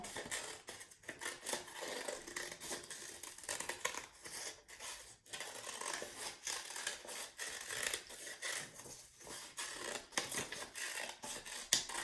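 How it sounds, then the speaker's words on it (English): Scissors snip and rasp steadily through construction paper, a continuous run of crisp cutting sounds close by, with short pauses between strokes. "Then we're going to practice cutting our complex shape on the line."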